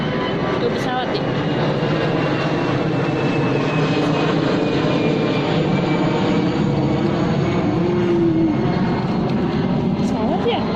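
Airplane passing overhead in the late afternoon, a broad steady engine roar that holds throughout, with a child's and an adult's voices talking over it.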